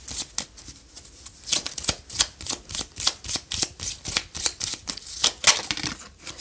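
Tarot cards shuffled for a reading, producing a rapid series of crisp riffles and slaps in quick rhythmic bursts, close and fairly loud, with no talking.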